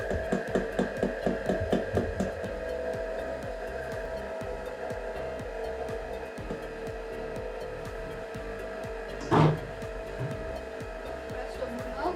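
An electric stand mixer running on its lowest speed through cake batter, a soft whirring motor with rhythmic beating, under quiet talk and a brief clatter.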